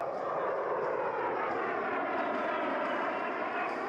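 An A-10 Thunderbolt II Warthog twin-turbofan attack aircraft roars with a steady, loud engine rush that holds unbroken from start to finish.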